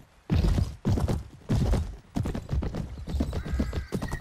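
Hooves of ridden donkeys thud along in the medieval game Mount & Blade Warband, several close heavy clip-clop bursts at first, then a quicker, denser trotting rhythm.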